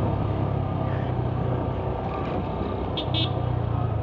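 A car engine pulls hard in low gear up a steep road on the Maharashtra coast, giving a steady, continuous drone that stays fairly loud throughout, with a couple of faint higher tones drifting in over it.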